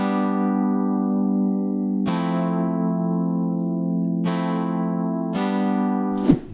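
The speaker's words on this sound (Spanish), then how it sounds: "Le agregué un teclado que me transmita un poco esa música" Retro eighties-style synthesizer keyboard plays sustained, bright chords in a pop instrumental, restruck about every two seconds with a sharp attack and long decay, steady and loud with no voices.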